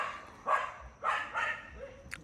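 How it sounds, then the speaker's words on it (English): Dogs bark outdoors in Hawaii, three or four short barks spaced across a couple of seconds at moderate distance, with a faint yip at the end over quiet background. "there's lots of dogs about today"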